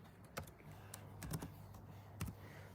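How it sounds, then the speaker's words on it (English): Typing on a laptop keyboard: a quiet, close patter of soft key clicks in small irregular bursts, with brief pauses between the runs of keystrokes. "I'm just typing it on the laptop for you."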